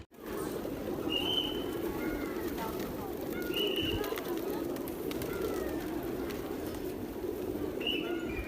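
Pigeons coo repeatedly at Boudha Stupa in Kathmandu, soft rounded calls recurring every couple of seconds over a busy murmur of crowd noise and distant chatter, with occasional higher chirps.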